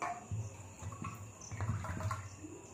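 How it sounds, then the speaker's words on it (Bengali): Water is poured from a bowl into skimmed milk cream being churned into butter, a steady liquid splashing and sloshing that runs through the whole moment with no one speaking. "এতে আবারও আমি জল দিচ্ছি"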